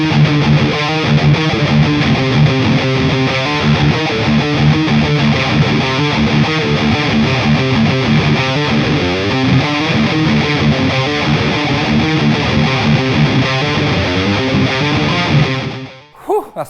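An electric guitar runs through the high-gain preset of the ML Sound Lab Amped CB4 amp plugin, giving a thick, loud, overdriven tone that rings out continuously with chords and riffs before cutting off abruptly at the end.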